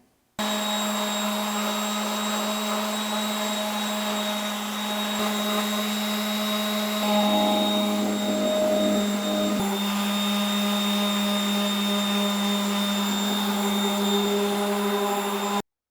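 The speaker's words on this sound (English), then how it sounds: "I'm going to hit it with the orbital sander" An orbital sander runs on a pallet wood planter, making a loud, constant high-pitched whine and buzz that shifts in tone briefly midway as it bears down on the wood, with no talking.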